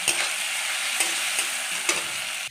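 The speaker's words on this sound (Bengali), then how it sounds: "ওই তেলে আমি আলু ভেজে বেশ নুন দিলাম আর হলুদ" Potatoes frying in hot oil, seasoned with salt and turmeric, give a steady, close sizzle, broken by several sharp scrapes of stirring.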